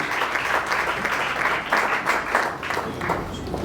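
A church congregation applauding during a worship service, a dense, continuous wash of many hands clapping at close range, steady throughout with slight swells.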